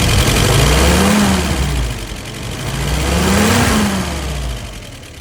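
An engine on a YS 637S is pulled through, catches and runs, its loud, near tone rising and falling twice in pitch as it revs up and settles.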